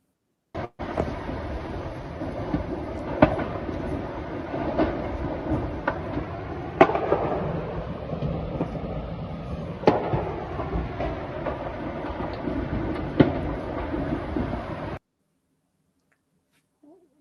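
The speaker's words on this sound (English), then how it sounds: "There is secondary explosions, right?" Footage of a strike site with secondary explosions: a sustained roaring rumble broken by repeated sharp cracks and booms at irregular intervals, then a sudden cut to near silence.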